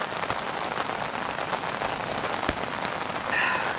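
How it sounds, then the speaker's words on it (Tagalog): Steady rain pattering on a camp awning beside a river at Camp Pebble Creek, a dense, even patter with a few louder drops, close and continuous with no talking. "tunog ng patak ng ulan sa awning natin,"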